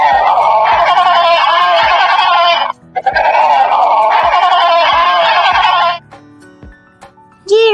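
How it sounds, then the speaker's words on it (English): A penguin calling: two long, harsh braying cries, loud and close, separated by a brief pause, followed by quiet and a short bright chime at the end. "Penguin."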